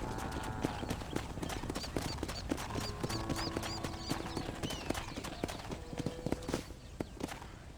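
Horse hooves clip-clop in a steady, brisk rhythm close by, by a stable in Red Dead Redemption, with faint background noises and a soft tone underneath.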